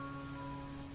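Rain falls steadily at night as a quiet, continuous hiss, faint and unbroken for the whole moment, with no voices heard.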